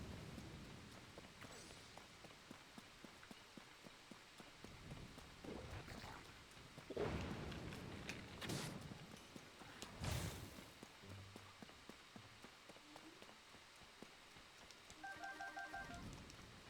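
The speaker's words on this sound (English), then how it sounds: "I can't climb in the rain." Rain falls steadily with rolling thunder bursts in the game The Legend of Zelda: Tears of the Kingdom, fairly quiet throughout, with loud thunder swells near the seventh and tenth seconds and a brief game chime near the end.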